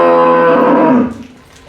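A cow at a dairy cattle market moos once, long, loud and close, a deep drawn-out call that fades quickly into quiet.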